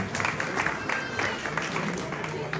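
An audience at an inauguration for a rehabilitated venue gives a brief burst of clapping, moderately loud and fairly close, over a roomy background murmur.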